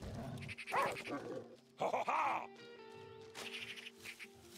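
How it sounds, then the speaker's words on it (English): A dog barks a few times in the video game Last Day of June, with short yelping and grunting calls over soft game ambience and music. "Because there's gotta be a point for calling the dog."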